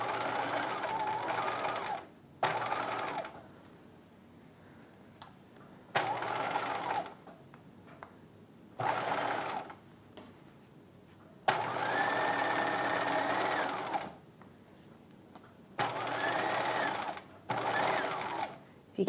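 A sewing machine stitches the lining of a 1950s-style halter dress in repeated bursts of steady whirring, with short pauses in between and no talk.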